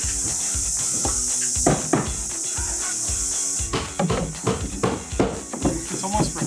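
Nails are hammered into tongue-and-groove timber roof boards on a cabin build, with a run of sharp irregular knocks, sparse at first and then in quicker clusters, over a steady background hiss.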